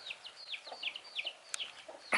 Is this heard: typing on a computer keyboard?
no